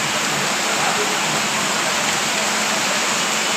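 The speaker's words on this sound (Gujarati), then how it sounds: "અંધાધૂંધ વરસાદ પડી રહ્યો છે." Heavy rain pouring down in Surat, a dense, constant roar of falling water that stays loud and unbroken throughout, with no gaps or talk.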